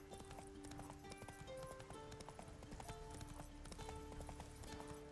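Roach the horse gallops in The Witcher 3, hooves clip-clopping in a fast, steady rhythm under a quiet game soundtrack.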